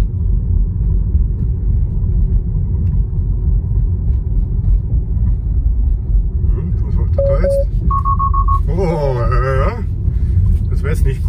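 Steady low road rumble inside a Tesla Model 3 driving itself on autopilot at low speed, with a couple of short electronic chimes near the end and a voice speaking over the hum.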